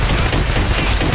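Dense, continuous automatic gunfire in the stealth action game Hitman: Absolution, a loud unbroken fusillade of rapid shots with no talk over it.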